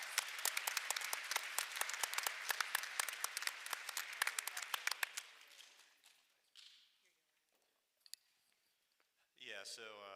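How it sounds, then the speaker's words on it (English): An audience at a school board meeting claps in a brisk, fairly close round of applause that fades out about halfway through, followed by near silence with a few stray clicks and a brief burst of speech at the end. "Please join me in giving Riley a round of applause."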